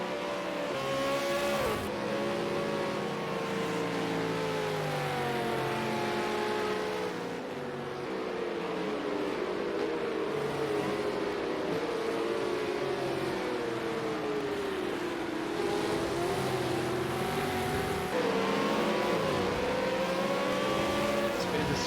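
A V8 Supercar race car engine at Bathurst's Mount Panorama in the final championship round, revving hard and rising and falling continuously through gear changes, loud and sustained with a commentator's voice underneath.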